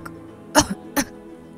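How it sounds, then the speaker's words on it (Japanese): A character coughs in the horror adventure video game Shin Hayarigami 3, two short harsh coughs about half a second apart over a quiet ambient background. "寝ていたはずの新見警部補が咳き込んだ。"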